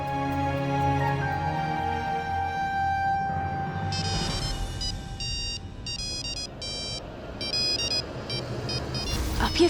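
A phone rings with repeating electronic melodic tones over background music, the ringing bursts arriving in a steady pattern, fairly close.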